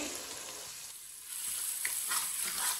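Biryani ingredients with chopped coriander, mint and green chillies being stirred in a pot, a soft hissing sizzle with scraping that swells and fades, fairly quiet and close.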